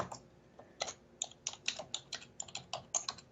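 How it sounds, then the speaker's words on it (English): Quick, uneven keystrokes clack on a computer keyboard in a quiet room, about a dozen sharp clicks in bursts, fairly soft and close. "I got to make sure I'm typing on the right keyboard as I have multiple computers here"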